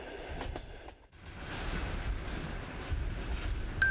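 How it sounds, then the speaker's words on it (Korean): A Trans-Siberian Railway train runs along the tracks between Vladivostok and Khabarovsk, a steady low rumble and rattle of wheels on rails with faint clicks, heard from inside or close by, after a brief dip early on. "열차는 블라디보스토크에서 하바롭스크를 지나"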